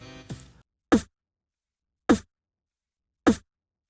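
Beatboxed snare run through a Boss RC-505 MKII loop station with chorus and EQ softening the crisp highs: three evenly spaced, punchy hits with silence between, after a brief voice at the start.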